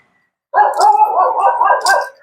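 A dog at a government housing subdivision gives one loud, close, drawn-out bark that carries on for over a second, alone with no talking.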